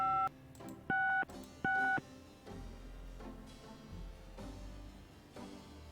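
Telephone keypad tones beep three times as an international number is dialed in the game Gabriel Knight: Sins of the Fathers, followed by a low murmuring line tone.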